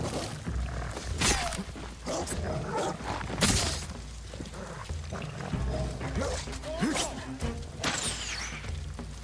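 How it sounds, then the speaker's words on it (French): A dog in the Ghost of Tsushima video game gives a few scattered barks and yips amid busy, noisy game sounds, moderately loud, with some sharp clattering mixed in. "Allez le chien, viens là."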